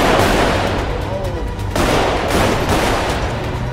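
Gunfire in GTA 5 roleplay: a dense, loud burst of shots in the first seconds, then a second run of cracks after a short lull, with crowd-like background noise underneath.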